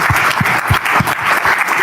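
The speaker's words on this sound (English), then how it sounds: "Give a round of applause, you guys." Applause from an audience at a panel of active and retired professional athletes, a steady wash of clapping filling the whole short stretch with a few louder individual claps near the front.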